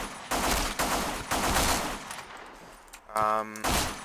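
Rapid gunfire in the first-person shooter Black Squad, with close, loud shots in quick bursts and a voice talking briefly between them.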